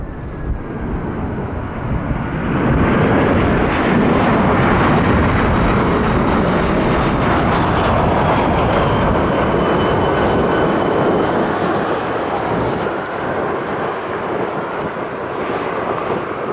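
Airbus A330 and A340 jets of Hi Fly at Calgary International Airport, a loud sustained engine roar that swells, holds steady and slowly eases off, with no voices.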